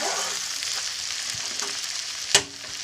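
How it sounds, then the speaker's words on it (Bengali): Garlic cloves frying in a pan, a steady close sizzle and crackle of hot oil with a sharp clink near the end, no voices. "এখানে আমি রসুনের কোয়াগুলো দিচ্ছি, এটা খেতে বেশি ভালো লাগে ভেজে।"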